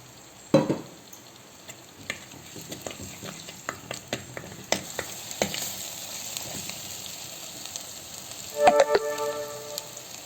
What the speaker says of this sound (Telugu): ఇలా పచ్చివాసన పోయేదాకా వేయించుకుని